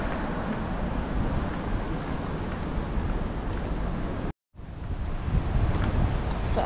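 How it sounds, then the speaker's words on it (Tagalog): Strong typhoon wind in Hong Kong roars continuously in loud, buffeting gusts across a microphone, with a brief dropout of silence before the rushing wind returns just as strong. "Malakas talaga yung hangin."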